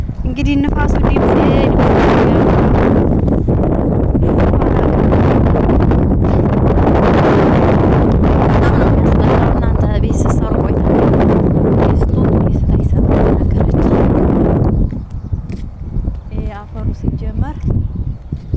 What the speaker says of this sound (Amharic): እንግዲህ ንፋሱ ድምጽ